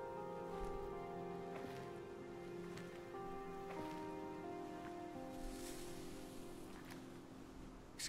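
Steady rain falls in the Silent Hill 2 remake as an even, soft hiss of drops. Quiet ambient tones run underneath it, and no one speaks.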